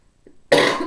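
A single close, sharp cough bursts out of near silence after a faint breath, with no other sound around it.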